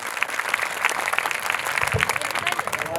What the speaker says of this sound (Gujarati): જોરદાર તાળીઓથી વધાવો આ બાળાઓને.